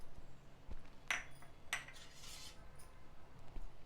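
A spoon stirs a cooled sago and tomato mixture with sesame seeds and cumin, making quiet scrapes and a few distinct metallic clinks against the vessel, faint and close, with no talking.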